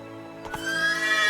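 Roach, a horse in The Witcher 3, lets out a short, loud whinny with a rising squeal, heard close and alone after a brief pause.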